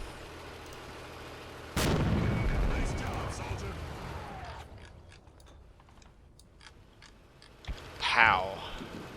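Artillery fire in the video game Combat Mission Black Sea, a sudden heavy boom with a rumbling tail, later a sharp crack and a rising burst, with talk in between.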